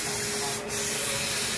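Clear coat sprayed from a spray gun onto a Honda Click i 125 motorcycle body cover as a wet application, a loud steady hiss that dips briefly at one pause, with no talking.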